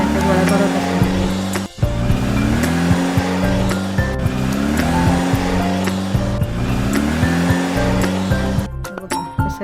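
A kitchen mixer whirs steadily at close range while churning cream with water into butter for making ghee, its loud motor drone continuous apart from a brief dip near the start and light knocks toward the end.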